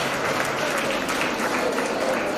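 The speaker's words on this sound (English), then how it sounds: "So a round of applause for her." An audience at an international clinical pharmacy conference claps in a steady, continuous round at moderate volume, with a voice speaking faintly under the applause.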